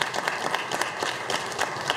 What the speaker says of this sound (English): So let's give our board a round of applause.